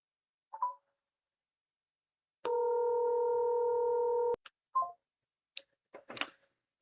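A steady dial tone holds for about two seconds while a phone call is placed, set among short blips and clicks of a phone being handled.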